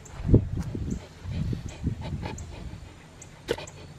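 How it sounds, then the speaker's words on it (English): A dog pants and breathes hard up close in uneven bursts, with a few soft whimpers and a sharp click near the end. "He's panting and breathing hard."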